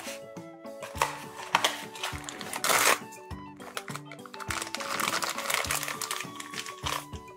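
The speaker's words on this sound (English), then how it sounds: "This one, you see, protected by a plastic bag." Plastic bag around a blind box figure being handled and opened, crinkly rustling and crackling bursts come in irregular bunches over a steady background of music.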